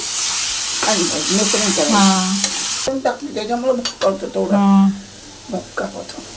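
Mashed roasted eggplant for bharit tipped into a hot pan and stirred, with a steady frying sizzle and scraping, while someone talks over much of it.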